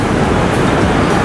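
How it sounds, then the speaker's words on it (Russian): A heavy downpour pours outside the old station building of the National Railway Museum in York, a loud, dense, unbroken roar of rain filling a short moment. "Это шумит на улице дождь."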